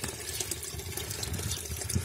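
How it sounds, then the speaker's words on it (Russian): Spring water at a spring by a city pond in Donetsk runs in a steady, soft, continuous wash, with no voices. "Вот так сегодня выглядит этот родник."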